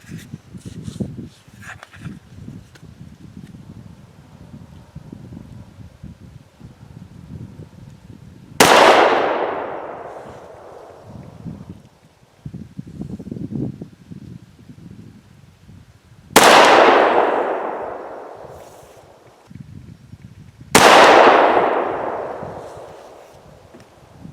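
Three sharp, loud rifle shots from a 300 Blackout firing lead bullets, spaced several seconds apart, each with a long decaying outdoor echo, over low background noise.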